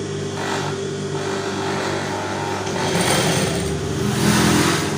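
A sewing machine runs steadily as its pedal is pressed while fabric is being stitched, a continuous mechanical whir and hum that swells slightly louder toward the end, close by with no talk.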